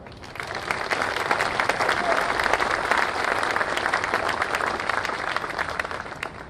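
A large crowd at a Marine Corps relief and appointment ceremony applauds steadily and loudly for several seconds, a dense wash of many hands clapping that holds even throughout.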